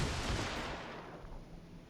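A torpedo rack launching from a ship in a naval combat video game, a loud muffled boom that fades into a low rumbling tail.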